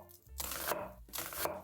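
Two crisp slicing strokes of a knife cutting horizontally through an onion on a board, each a short crunchy burst, close and quiet with a pause between.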